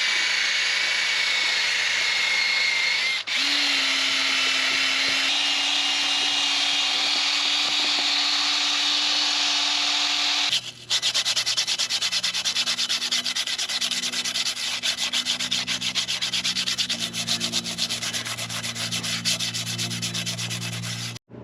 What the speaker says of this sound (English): We're gonna have to get in here with the wire wheel and the drill.